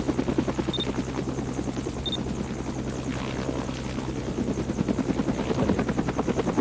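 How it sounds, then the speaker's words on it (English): A helicopter in the Roblox video game, part of a fire department shift, gives off a loud, steady, rhythmic rotor chop that fills the whole stretch without any talk. "Are we gonna get rolling here with the chopper?"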